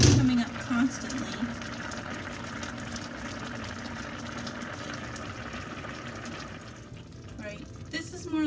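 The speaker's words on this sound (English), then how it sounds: "this is boiling. It's large bubbles coming up constantly." A pot of butternut squash soup at a full boil sends up a steady, bubbling wash of sound beneath a person talking nearby.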